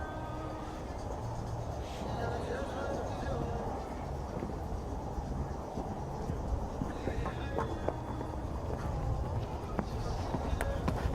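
Horse hooves thud and clip-clop through a show jumping round in the Maple Ridge President's Cup, a steady mix of footfalls and arena noise beneath continuous commentary from an announcer.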